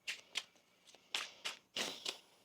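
Tarot cards being shuffled by hand, a series of crisp riffling bursts in an irregular rhythm, close and quiet with no talking.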